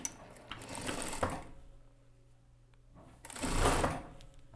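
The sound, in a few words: sewing machine stitching the back lining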